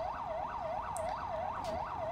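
Wailing ambulance siren from GTA 5, sweeping up and down in a steady, fast rhythm roughly twice per second, loud and continuous with no voices over it.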